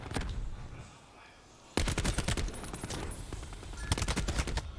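Rapid automatic gunfire rattles in a Call of Duty pro league match, loud close bursts broken by a short quieter lull, then dense repeated volleys resume and continue to the end.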